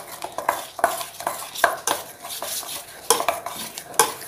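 A spoon stirring rava cake batter mixed with ghee and salt in a bowl, repeated scraping and clinking strokes in an irregular rhythm, close and fairly loud with no voices.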